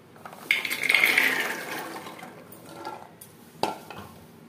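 Water gushes into a pressure cooker for a chana masala made with mutton fat, a close, splashy pour that swells quickly and then tapers off. A sharp metallic clank follows near the end.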